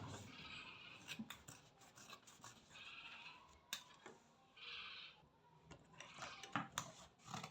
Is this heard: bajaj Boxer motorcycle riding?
no